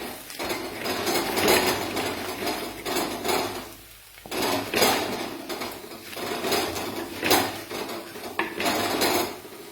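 Ground spices, turmeric, coriander and chilli powder, sizzle in hot oil for a red fish curry while metal utensils clatter and scrape steadily against the pan, with busy kitchen handling throughout.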